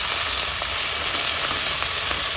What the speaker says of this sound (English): Now add 1 medium-sized chopped tomatoes, cook around 5 to 6 minutes on medium-low heat.